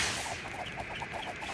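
A quick run of short, nasal cartoon duck quacks repeats steadily, about eight calls in a row, moderately loud with no voices.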